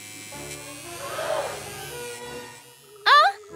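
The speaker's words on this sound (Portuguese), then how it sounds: "O Mãozinha pegou o barbeador!" A cartoon electric shaver buzzes in a steady, moderately loud drone, followed by a short, sharp vocal cry; there is no speech over the buzzing.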